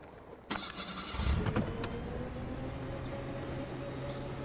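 A bus engine strains in the Bus World driving game, a broken-down bus that cannot be floored. After a few clicks, a rough low rumble swells and then settles into a constant droning hum with no talk over it.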